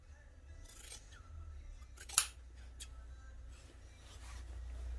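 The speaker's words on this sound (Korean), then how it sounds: "그래서 이렇게 해주고 짧게 잘라줍니다." Scissors cut fabric while a pair of cargo jogger pants is being sewn, giving one sharp close snip that stands out over a quiet room hum.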